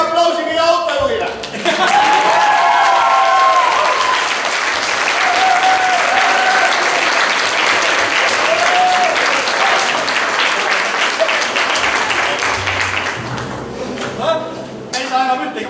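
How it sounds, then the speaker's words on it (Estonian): Concert audience applauding its driver, a long steady roar of clapping and cheering that swells in right after a voice and fades near the end, with voices over the tail. "Teeme aplausi meie autojuhile!"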